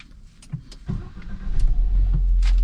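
A 2024 MG HS 1.5 turbo car starting up, with faint interior clicks and whirs before the engine catches and settles into a steady, close idle hum.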